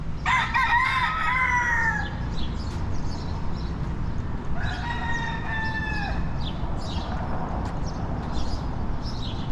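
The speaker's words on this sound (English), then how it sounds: "Another rooster" A rooster perched on a rail in Ybor City, Tampa, Florida crows twice, a loud, near cock-a-doodle-doo at the start and another a few seconds later, over a constant outdoor street hum with faint clucking and clip-clop sounds.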